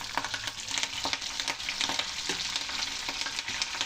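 Dry red chillies, fenugreek seeds, cumin, mustard seeds and curry leaves frying in hot oil for sambar, a loud, steady crackling sizzle close up with scattered pops and light stirring scrapes.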